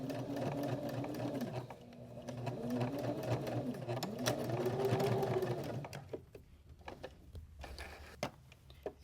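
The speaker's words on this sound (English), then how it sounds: "when I get back to this stitching, I'm going to cross it and back stitch a little bit to lock it in place" A sewing machine runs close up, stitching a fabric heart onto an upcycled shirt with a short back stitch to lock it, its whirring motor rising and falling in pitch for about six seconds before stopping, leaving light handling noises.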